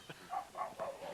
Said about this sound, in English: That dog sounds like it's right at my feet.